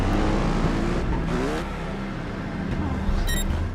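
A motorbike engine in Trials Fusion revving and accelerating, a continuous loud buzzing drone that rises and falls in pitch as the bike climbs a ramp, with a voice talking over it.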